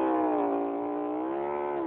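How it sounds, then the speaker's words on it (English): A motorcycle engine holds a steady, sustained rev with a strong harmonic drone that sags slightly as the clutch is let out; close, loud and continuous, with no talking. "Give it some revs there. Then let out the clutch."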